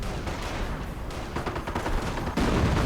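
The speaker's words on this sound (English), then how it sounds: "Artillery falling closer and closer." Artillery shells land in a 1v1 video game battle, a dense run of booming, crackling blasts that builds louder and heavier, with a fresh close impact near the end.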